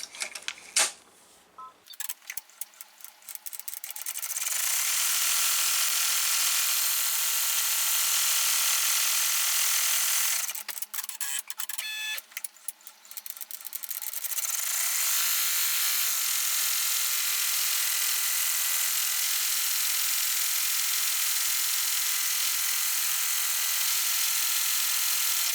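An embroidery machine stitches around the window of an in-the-hoop rectangle luggage tag, its rapid mechanical needle chatter running in long loud stretches, pausing briefly near the start and again around the middle before resuming.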